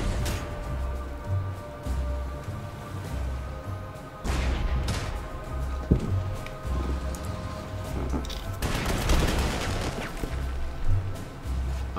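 Gunfire and shelling in the Panzer Corps 2 strategy game during the Kursk battle, with tank units fighting: sharp cracks and a louder crashing burst break over a steady low rumble and droning game music, with no voices.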